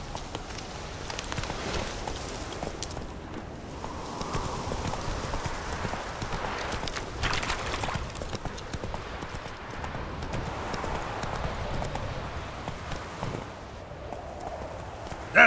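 Roach, a horse in The Witcher 3: Wild Hunt, clip-clops steadily in a running gait for the whole stretch, hooves loud and close over an ambient game backdrop.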